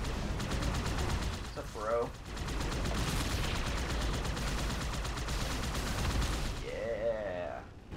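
Rapid, sustained automatic gunfire in the video game Halo 2 rattles almost nonstop, with a few brief voices talking over the shooting.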